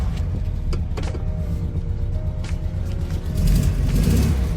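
A classic air-cooled VW Beetle engine, just started on a low battery, runs steadily at close range with a continuous low rumble that swells slightly louder near the end.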